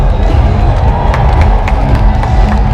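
Villagers cheer and shout as a large floating lantern is launched from a village at Inle near Taunggyi, a loud close crowd roar with whoops and claps throughout.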